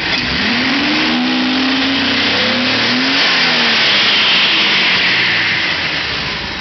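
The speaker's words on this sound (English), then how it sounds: "I'm going to give her some gas and watch how she hesitates in the mid-range RPM." A Datsun 280Z engine revs up loudly and close by, its pitch rising and wavering as it hesitates through the mid-range RPM, then holds at a sustained roar.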